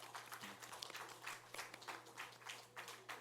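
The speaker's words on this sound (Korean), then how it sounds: "나올 때 박수 한번 하겠습니다" A church congregation at a Sunday worship service claps briefly and quietly, with a scatter of individual claps in uneven bursts over a low steady hum in the room.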